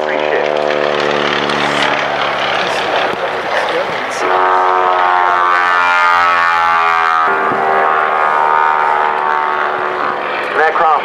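The interwar Mystery Ship racing propeller aircraft at the Duxford VE Day airshow gives a loud, close, sustained engine and propeller drone whose pitch changes as it passes.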